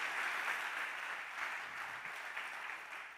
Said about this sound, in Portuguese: Vamos aplaudir o Senhor Jesus bem forte nessa noite.